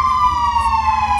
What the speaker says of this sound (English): Let's turn off the sirens, cause that might be too noisy